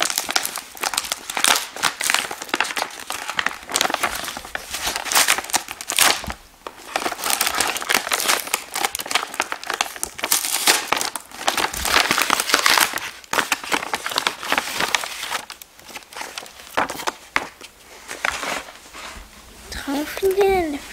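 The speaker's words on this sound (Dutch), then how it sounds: "Even een envelop hier. Maak hem open." A paper envelope is torn open and handled, giving loud, close crinkling and ripping bursts that go on for about twenty seconds with short pauses, while a person talks throughout.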